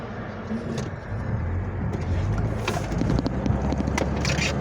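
Steady wind rushing through open car windows, mixed with road rumble from a moving car and occasional gusty buffeting against the microphone.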